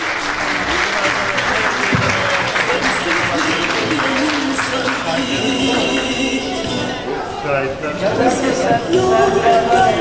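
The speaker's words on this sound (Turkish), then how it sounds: "Kuvvetli bir alkış alabilir miyiz kendilerine?" Loud, dense applause from a crowd at an August gathering, steady for about ten seconds with chatter and voices mixed in and music-like tones rising near the end.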